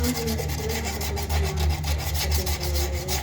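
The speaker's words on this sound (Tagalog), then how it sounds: "Kuha lang natin ng medyo maruming kalawang. Yan, lihain natin ng konti." Abrasive paper scraping rust from a metal rice cooker pot, a loud continuous rasping rub with steady back-and-forth strokes, close up and with no voices.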